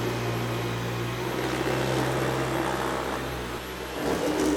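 A Dyson V11 Absolute cordless stick vacuum runs continuously, a steady whirring motor hum with a constant low drone, its tone dipping slightly near the end as the head moves from carpet to hard floor.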